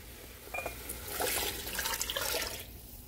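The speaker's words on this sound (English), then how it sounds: "Let me add a little water." Water splashes and pours into a cooking pot of meat for okra soup for a couple of seconds, a short gushing stream that swells then eases off, quiet and close.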